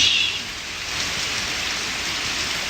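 Steady rain pours down, heard from a porch beside a gutter, a dense even hiss of drops that holds at moderate loudness throughout with no voices.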